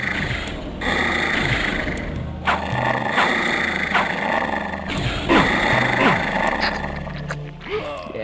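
Werewolf form growling in the video game Blood Omen: Legacy of Kain, a loud, rough snarl that swells in several repeated bursts over a steady game background.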